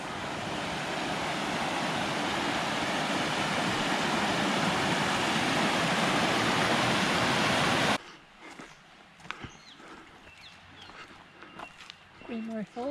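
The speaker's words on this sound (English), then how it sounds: "so there's a little creek that's running through and out over the waterfall" A small creek runs through and spills over the top of Queen Mary Falls, a loud steady rushing wash of water for most of the span before it cuts off to quieter sounds with faint voices.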